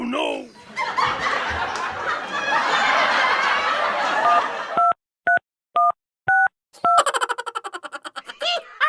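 A telephone number is dialed on an old landline for an STD call: four evenly spaced dialing tones, then a short burst of tones with a ringing tone, following a stretch of loud laughing and talking.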